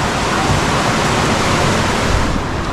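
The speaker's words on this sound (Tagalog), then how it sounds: "Naligo na si Idol sa ulan" Heavy rain pours down in a loud, dense, unbroken hiss, close and constant throughout with no voices.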